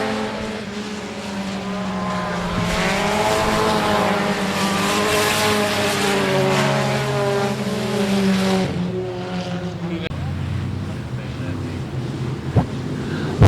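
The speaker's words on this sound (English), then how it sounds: "Trying to pull up next to McCall, but Brandon McCall coming home with the heat race win." Race cars in a sport mod heat race roar around the I-37 Speedway oval, a loud continuous engine drone with shifting pitch, fading slightly near the end.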